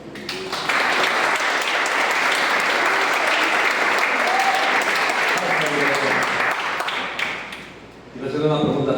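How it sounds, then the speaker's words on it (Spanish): An audience at a church gathering for faith testimonies breaks into sustained applause, dense and loud for about seven seconds before fading, with a voice speaking as it dies away. "quiero darles un aplauso"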